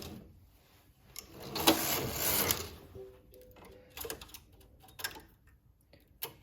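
A domestic knitting machine carriage is pushed across the needle bed to knit one row, edging the side of a piece. It makes a mechanical clattering rush that swells for about a second, then quieter clicks and ticks follow.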